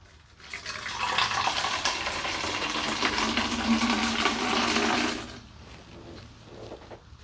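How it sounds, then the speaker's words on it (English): Cold water pours steadily into a sanitized PET bottle for about five seconds, a close, full, rushing splash that stops abruptly, leaving quiet room tone. "I'm going to pour some cold water into our sanitized PET bottle here"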